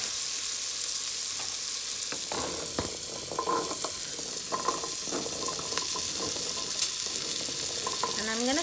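Asparagus sizzling steadily in a pan with salt, a constant bright frying hiss with scattered pops and clinks of stirring throughout, close and loud with no talking.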